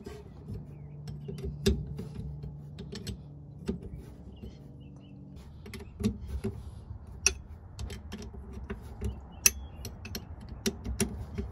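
Sharp metallic ticks and clicks come at irregular intervals as a vehicle drive shaft is removed, with a faint creak and low background hum between the hits.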